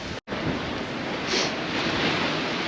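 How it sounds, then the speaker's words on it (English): Strong wind roars and buffets across the microphone with steady surf in the background at Chesil Beach, Abbotsbury, at low tide; no voices. "I had to change my hat because it's so windy now"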